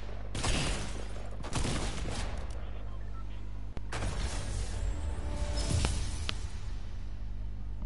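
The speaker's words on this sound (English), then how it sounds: "You shot me in when I was in the air." Loud, dense bursts of gunfire in Fortnite, clustered at the start and again near the middle, over a constant low background hum.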